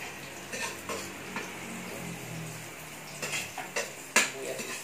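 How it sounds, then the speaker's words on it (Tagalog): Onion sizzling in a pan for Filipino-style sweet spaghetti, a soft steady frying hiss punctuated by several sharp clinks and scrapes of a utensil stirring against the pan. "Sunod, lagay natin yung sibuyas."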